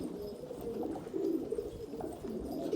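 Domestic pigeons give low, soft, rolling coos close by, with the repeated burbling calls overlapping in a continuous murmur.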